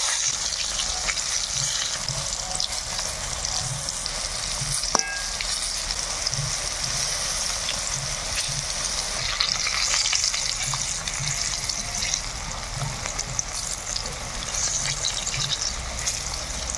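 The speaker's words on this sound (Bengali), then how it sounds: "এবার উল্টে পাল্টে ভেজে নেব কড়া করে।" Banana peel pakoras deep-frying in hot oil, giving a steady, fairly loud sizzle with faint bubbling throughout and no talk.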